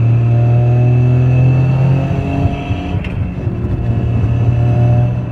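A 600bhp tuned Toyota GR Yaris with a sequential gearbox pulls hard under acceleration, its engine a loud, steady drone close up that dips briefly mid-pull before building again.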